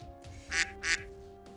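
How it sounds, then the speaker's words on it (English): Ducks quack twice in quick succession, faint and somewhat distant, over a steady low background hum. "Yeah, ducks."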